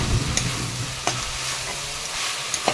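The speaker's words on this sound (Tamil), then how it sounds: "நல்லா கிளறி விட்டுட்டுக்கேன் இது கைவிடாமல் திருப்பிக்கிட்டே இருக்கணும்" Drumstick leaves fry with a steady broadband sizzle while a spatula stirs and scrapes the pan, giving a few sharp clicks against the constant crackle; nobody speaks.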